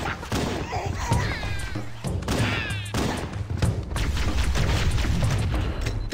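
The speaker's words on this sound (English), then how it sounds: "Cause he clearly threw a grenade right there." Grenade blasts and weapon fire from the shooter game Halo CE Anniversary, booming thuds and crashes repeating through a busy game soundscape, with a little talk mixed in.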